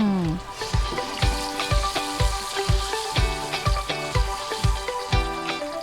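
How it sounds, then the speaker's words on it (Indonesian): Battered banana stem slices fry in hot oil with a steady sizzle, partly buried under louder rhythmic background music with a thumping beat. "Setelah itu, goreng."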